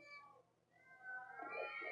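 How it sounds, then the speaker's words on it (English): Several cats meow in Minecraft Story Mode, their drawn-out, rising cries overlapping and growing louder and more crowded toward the end, with no talk over them. "Oh, many cats. So many cats."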